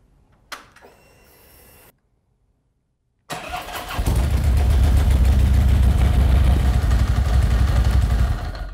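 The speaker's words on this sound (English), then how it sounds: "we're going to go ahead and start the bike up and make sure we're good to go" A motorcycle engine is cranked after a fresh battery install: a short starter whir, a brief quiet pause, then the engine catches and settles into a loud, steady idle close by.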